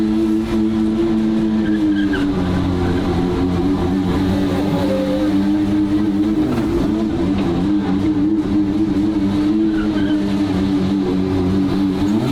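A twin-turbo Ferrari V12 drives past at a steady, loud cruise, its engine holding a constant wavering drone throughout with slight pitch wobbles and no speech.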